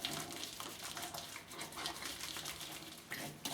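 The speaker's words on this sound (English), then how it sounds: "I'll have a rinse off with hot water" Hot then cold water runs steadily from a bathroom tap for a rinse after a wet shave, a faint continuous splashing hiss.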